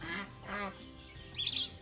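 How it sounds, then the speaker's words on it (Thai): Blueberry ducks on a farm give two short nasal quacks close by, followed by a sharp, higher squawk. "เนี่ยเป็ดบับเบอรี่ครับ"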